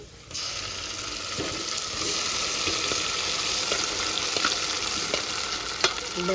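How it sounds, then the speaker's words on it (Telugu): Cooked dal poured into a hot onion and curry-leaf tempering for gongura pappu, a sudden burst of loud, dense sizzling that holds steady with a few scrapes and clinks, close and without talk. "ఈ పప్పు ఈ తాలింపులో వేసుకుందాం."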